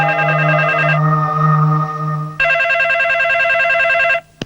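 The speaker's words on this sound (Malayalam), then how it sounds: "ആ ഫോൺ ഒന്നെടുത്ത് ആരാ നോക്കിയേ?" A telephone rings at night with a warbling electronic tone in two bursts: a lower, steadier ring, then a brighter, pulsing ring that cuts off abruptly.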